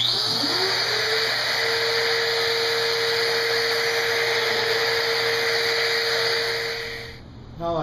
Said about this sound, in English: plunge this in and create those shelf pins